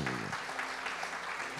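A steady wash of clapping from a church congregation, sustained and even, with a voice briefly audible at the start.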